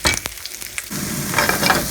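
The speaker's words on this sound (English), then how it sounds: "put a little bit of this lovely heart-healthy oil in there, and then we're going to add our onions" Onions saute in heart-healthy oil in a pan, a short burst of loud crackling sizzle with a few sharp taps early on, then a denser hiss filling the rest.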